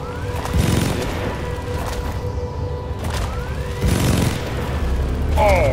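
Explosions in Deep Rock Galactic co-op gameplay, with loud broadband booms near 0.8 s and 3.9 s over constant game noise and shooting, a rising electronic whine at the end, and no voices.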